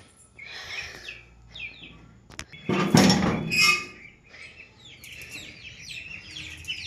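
Ducks and chickens on a rooftop at dusk cluck, chirp and quack in an overlapping chorus, with one louder burst of squawking midway, close and steady.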